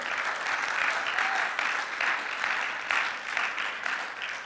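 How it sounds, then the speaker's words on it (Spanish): A church congregation applauding loudly and steadily during a sermon, a sustained even wash of clapping with no talk over it. "Ahora dale un aplauso fuerte a él."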